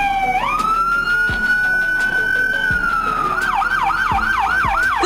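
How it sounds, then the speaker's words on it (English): United States police car siren sounding loud and close, a long steady wail that rises and holds before switching to a rapid yelping warble, continuous throughout with no talking. "United States Police Car."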